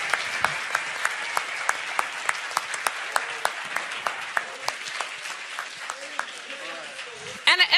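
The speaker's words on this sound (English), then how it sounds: "A round of applause for our team." A live audience applauds a team at an economics discussion event, steady clapping from many hands with a few sharper individual claps standing out, sustained and fairly loud throughout, with a brief burst of louder sound near the end.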